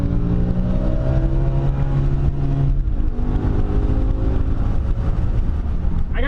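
A BMW M5 luxury sedan pulls hard in first gear, its engine note climbing steadily from inside the cabin, then dropping as it shifts, with a brief voice near the end.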